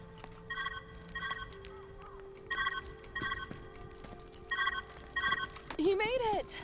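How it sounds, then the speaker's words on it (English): An old-style phone ringing in the puzzle game Viewfinder, bursts of rapid bell trills repeating about every second, fairly clear and alone, followed by a short rising musical chime. "Where's that ringing coming from?"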